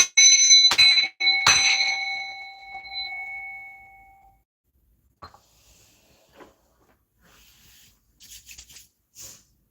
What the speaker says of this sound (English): I'm gonna bang the bell to block and rebuke all hexes, curses, and spells